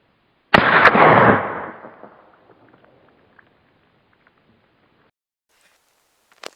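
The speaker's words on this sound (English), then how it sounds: "I'm going to take one shot at each" A single loud, close rifle crack fired at a water-filled bottle outdoors, using a packable survival rifle, with a long decaying tail and a few faint taps afterward.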